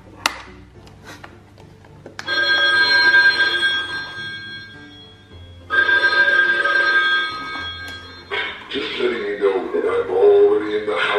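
A Halloween prank telephone with a skeleton-hand design rings in two long, loud electronic bursts, separated by a brief pause, followed by a noisier stretch with voices talking.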